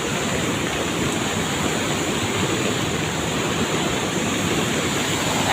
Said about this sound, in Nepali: यति ठुलो छ तिनो खोला।